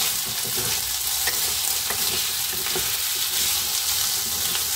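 Potatoes and long green beans fry steadily in a pan over medium heat, a dense continuous sizzle broken by several light scrapes of a spoon stirring the vegetables, close and alone with no talking.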